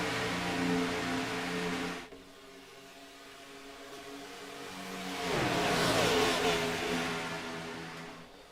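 Race cars lap Daytona during a Little Dog Big Dog race, their engines a steady distant roar that drops away, then swells again as more cars pass at speed, with no talking.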